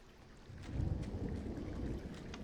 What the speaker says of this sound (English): I heard some thunder